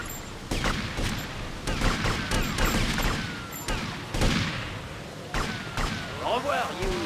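Dense, continuous gunfire and explosive cracks from the Grand Theft Auto: Vice City video game, a sustained barrage with scattered sharper shots and ricochet-like whines throughout.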